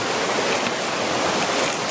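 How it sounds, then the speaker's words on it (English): A small waterfall spills beside a swimming hole on a hike, a loud, steady rushing roar of falling water close by with no voices over it. "And this cool little waterfall thingy."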